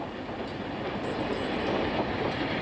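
Train on a rebuilt slate railway in Wales, a loud steady rumble and roar of wheels on track with faint high squeals, continuous and close.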